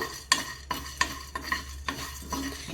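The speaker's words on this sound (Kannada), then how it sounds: "ನಾನೀಗ ಇದನ್ನೆಲ್ಲ ಚೆನ್ನಾಗಿ ಫ್ರೈ ಮಾಡ್ತೀನಿ" Ingredients for North Karnataka birenji rice fry over a low flame while a spoon scrapes the pan in about six rhythmic strokes over a soft sizzle, close by and without speech.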